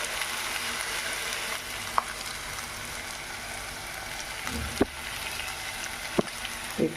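Potatoes fry in a pan with a steady, even sizzle for a crispy Telugu-style potato fry, and a few sharp knocks and clatters mark moments when the pan is tossed.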